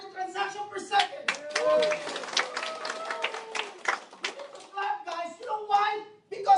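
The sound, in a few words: audience clapping at an event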